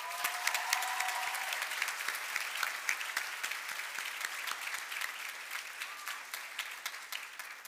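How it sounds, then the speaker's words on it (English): A graduation ceremony audience at an American academy in Qatar claps for the graduates' parents in sustained, dense applause that tapers slightly toward the end. "Let's thank our parents and give them a huge round of applause for their love and support."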